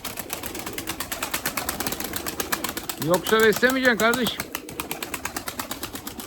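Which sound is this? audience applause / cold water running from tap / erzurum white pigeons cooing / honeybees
erzurum white pigeons cooing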